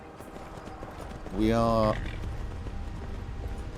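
Horse hooves clip-clopping at a gallop in the Skyrim Special Edition video game, a steady muffled beat running under a voice, with a brief whinny-like tonal cry rising over it.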